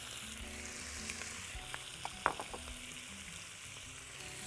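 Chicken sizzles in butter in a pan, a steady close frying hiss with scattered small pops and crackles, with no talking.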